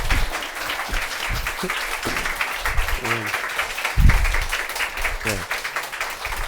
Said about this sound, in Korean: 우리 조정민 목사님을 박수로 모시도록 하겠습니다